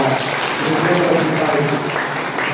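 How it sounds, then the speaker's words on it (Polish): Congregation applause at a Catholic Mass closing a retreat, a dense steady clapping filling a large reverberant church, with voices mixed in. "brawa dla tego ministra"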